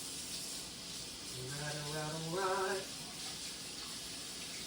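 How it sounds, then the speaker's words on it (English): Tap water running in a sink to rinse off a potted Nematanthus plant, a steady soft hiss throughout with a brief spoken word over it. "I'm gonna bring this to the sink. I'm gonna rinse it off."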